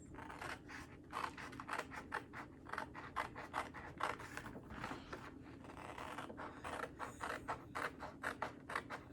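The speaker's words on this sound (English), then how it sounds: "So we're just going to cut this with some scissors right up the line." Scissors snip repeatedly in a quick, irregular series of crisp cuts, close up and fairly quiet, with no talking.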